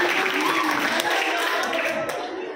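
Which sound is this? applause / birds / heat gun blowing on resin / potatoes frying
applause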